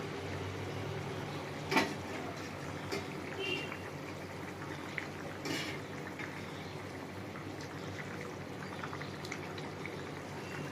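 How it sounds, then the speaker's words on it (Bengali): Fish curry broth bubbles quietly in a covered pan, a soft steady simmer with faint pops and a few small clinks throughout. "ঝোল ফুটে গেছে"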